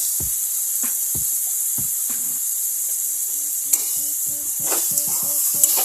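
Chopped tomatoes and salt frying in ginger garlic paste in a pan, a steady close sizzle broken by repeated scraping stir strokes and soft clinks.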